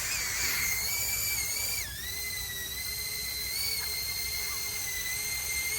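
A Huma20 sub-250 FPV drone hovers close by, its propellers producing a steady, high-pitched whine with stacked tonal layers that dip briefly in pitch and then hold steady.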